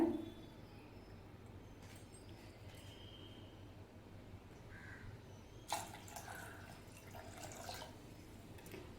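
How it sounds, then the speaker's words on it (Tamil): Water poured into mango dal with tomatoes in a cooking pot, a faint splashing trickle that comes in short bursts in a quiet kitchen, with no talking. "தண்ணி சேர்த்துக்கோங்க கொஞ்சம் நிறையவே தண்ணி சேர்த்துக்கோங்க"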